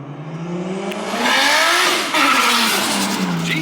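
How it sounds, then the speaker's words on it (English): A Toyota JZX brakes hard on the road, its engine note sliding down then climbing again as it pulls away, with a brief tire scrub mid-stop, loud and close from inside the car. "That's the brakes, Crento."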